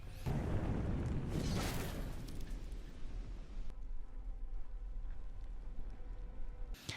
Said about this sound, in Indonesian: melemparkan granat milik Bors dan membuat dirinya pun meledak di tempat